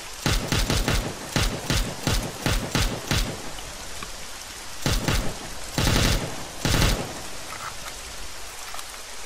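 Bursts of automatic gunfire in the military shooter Arma 3, a rapid run of sharp, loud shots followed by a few scattered, more distant volleys.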